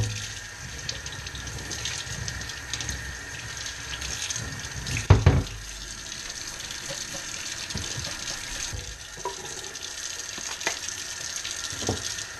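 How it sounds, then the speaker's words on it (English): Rusty metal being rinsed under running water, a steady close hiss of flowing water with a brief louder splash partway through. "So now we're going to go ahead and give it a good washing."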